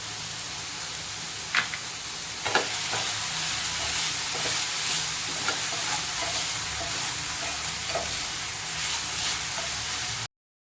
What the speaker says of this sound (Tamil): இதை ஒரு தடவை கிளறி விட்டுட்டு தேவையான அளவு உப்பு சேர்த்துக்கோங்க